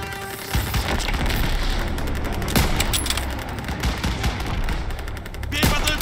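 Sustained World War II battle gunfire in the Call of Duty WWII video game, set in Marigny, France, July 1944: dense, loud machine-gun bursts and rifle shots with occasional booms, continuous and close.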